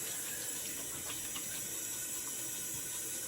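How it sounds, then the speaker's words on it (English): Cold tap water runs steadily into a sink for a rinse after a wet shave, a soft continuous hiss and trickle heard faintly and alone. "Cold water rinse."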